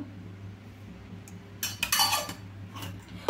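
A metal spoon clinks against a hot kadai as a spoonful of ghee goes in for ven pongal, with a few bright scraping and clinking bursts over a low steady hum.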